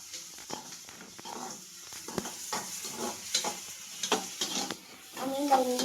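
Vegetables with dark soy sauce cooking for pasta, stirred in a hot pan: irregular scraping strokes and clatter over a moderate sizzle, fairly close, growing busier toward the end.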